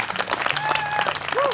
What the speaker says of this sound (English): So let's keep that applause going for Genesis B, everybody.